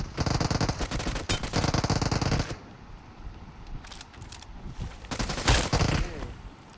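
Gunfire in BGMI (PUBG Mobile), rapid automatic bursts in two clusters separated by a quieter stretch, with Tamil speech by players in between.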